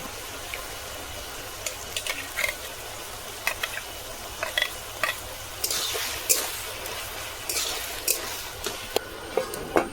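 Vegetables sizzle in a pan for an Assamese meal, with a low steady frying hiss broken by scattered clicks and scrapes from stirring, close by and without talking.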